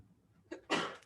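A single soft sneeze, a short intake followed by a breathy burst, faint and somewhat distant.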